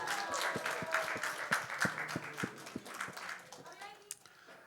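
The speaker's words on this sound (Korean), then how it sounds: "하빈이에게 박수." Children and congregants at a church conference clap in a quick, sharp run of distinct hand claps that thins out after a few seconds, with children's voices and chatter underneath.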